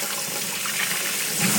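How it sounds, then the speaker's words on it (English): Hot water pours steadily from a tap in a hiss of running flow, with no break for about a second and a half and a slight rise in force near the end. "We're going to get the hot water going."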